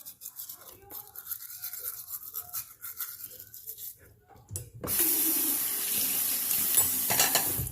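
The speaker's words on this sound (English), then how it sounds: "And I even brush the area where I'm missing teeth." A toothbrush scrubs teeth fitted with braces in soft, quiet strokes, followed by a louder steady rush of running tap water into a sink.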